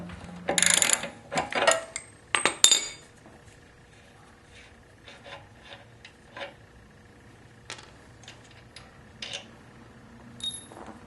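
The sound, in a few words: wrench loosening and removing Harley Softail rear axle nut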